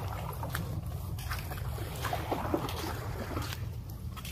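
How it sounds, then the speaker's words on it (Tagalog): Water gently lapping against rocks on the shore at San Roque Beach, a soft, continuous sloshing and trickling close by with a low rumbling undertone, quiet and with no talk. "Sarap pakinggan ng pagaspas ng tubig, no?"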